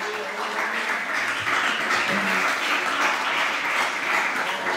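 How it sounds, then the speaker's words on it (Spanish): Audience applause for a guest named Beatriz at a wine-tasting talk event in Murcia, steady dense clapping filling the room at even loudness, with a faint voice briefly audible underneath. "Un aplauso para Beatriz."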